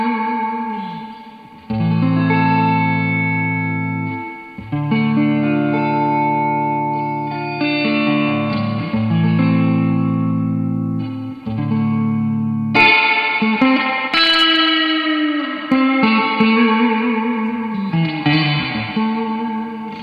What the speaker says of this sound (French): cette réverbération, elle est censée imiter ou se rapprocher du son de la mythique Reverb Fender 6G15